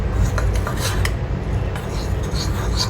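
A spoon stirs gram flour and rice powder into a face pack in a small bowl, giving a continuous close scraping and soft clinking against the bowl for a few seconds, with no voices.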